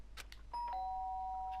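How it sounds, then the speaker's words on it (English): A two-tone electronic doorbell chime in the video game Danganronpa: Trigger Happy Havoc rings out clearly, its second tone ringing on steadily after a few faint clicks and soft background sounds. "The sharp sound of the doorbell pierced my sleepy haze and pulled me back to the real world."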